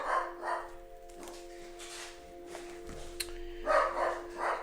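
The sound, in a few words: dog barking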